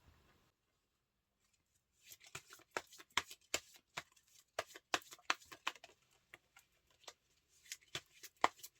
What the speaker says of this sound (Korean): 여기서 좋은 카드 한 장 뽑아볼게요